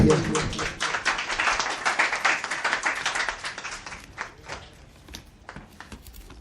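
An audience at a poetry mushaira award distribution claps, a lively round of applause that tapers into scattered, fading claps over several seconds.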